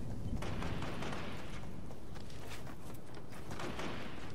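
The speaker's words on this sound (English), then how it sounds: "Here are gunshots." Rapid bursts of gunfire crackle continuously over a dense, rumbling background, a busy firefight in the game Fortnite.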